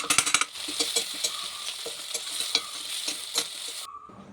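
Long beans stir-fried with mustard seeds, curry leaves and chillies give a steady, close sizzle, broken by frequent scraping and clattering stirs in the pan. No one speaks.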